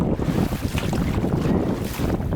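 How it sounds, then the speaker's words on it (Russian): Strong headwind roars steadily across the microphone while kayaking on Arctic waters, with a low rumble and choppy water sounds underneath, continuous and loud, no voices. "Смысла тут в такой гребле против ветра такого нету."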